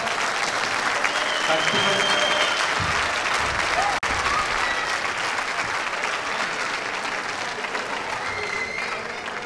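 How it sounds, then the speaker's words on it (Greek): A gym crowd at a youth basketball game applauds warmly in a dense, sustained wash of clapping that fills the hall, with voices mixed in under it. "Το πρώτο σας θερμό χειροκρότημα για να ξεκινήσουμε."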